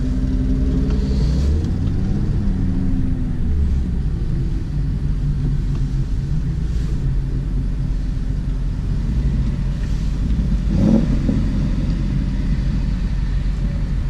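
Steady low rumble of a Maserati engine while cruising, a constant droning hum heard from inside the car, even in level with no talking.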